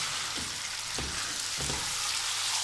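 Chicken pieces frying in tomato masala in a pan, a steady close sizzle with a few soft stirring scrapes and no talk.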